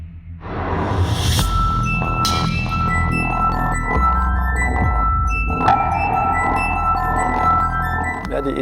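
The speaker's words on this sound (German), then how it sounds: "dass man Gläser zum Schwingen bringt" A KUKA industrial robot sets drinking glasses ringing and vibrating, giving sustained glassy tones and clinks that layer and persist over a low background rumble, with a few sharper strikes mid-way.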